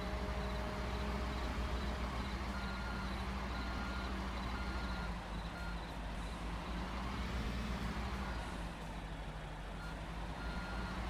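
A truck reverses on a Construction Simulator 3 site, its warning beeper pulsing at a steady rhythm over a continuous diesel engine drone, fairly close and alone without talk.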